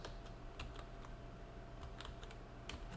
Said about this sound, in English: So now we are going to enter that command in here. We're going to type fdisk